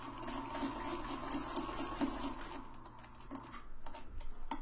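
A sewing machine stitching along a marked line on hexagon fabric pieces: a fast, steady mechanical whirr with rapid ticking for about two and a half seconds, close and moderately quiet, then stopping, followed by faint handling noises.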